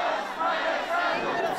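A crowd at a pro-Russian political rally in Moldova chants together in a brief, loud, dense burst of massed voices.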